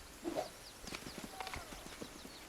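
Horse hooves clip-clopping in Pathfinder: Wrath of the Righteous, a steady, fairly quick rhythm of soft thuds under faint game ambience.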